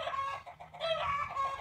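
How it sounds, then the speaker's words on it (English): Backyard chickens clucking agitatedly in a garden, a rapid run of loud, squawky clucks rising and falling over about a second and a half, fairly close and with no voices over them. "Sorry about the big fit throwing over there with the chickens."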